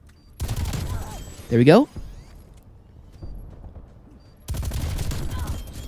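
Slow-firing Stoner 63 light machine gun in Black Ops Cold War: a short burst at the start, a loud bright blast, then another sustained burst near the end, with someone talking briefly in between.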